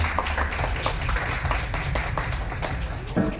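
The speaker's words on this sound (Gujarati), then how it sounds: "જોરદાર તાળીઓ થઈ જાય" An audience at a screening of a Gujarati film claps for the film's producer, a dense, steady patter of many hands that carries on for the whole stretch at moderate loudness.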